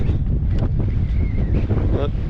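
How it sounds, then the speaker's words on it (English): Wind blowing outdoors near a wheat field at harvest time, a steady rushing buffet on the microphone throughout, loud and close, with faint rustling layered in. "And it's getting windy."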